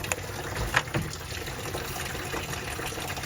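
Transmission fluid drains out of a Ford Ranger in a steady, close trickle and gush. Faint handling noises and a few small knocks sit over the flow.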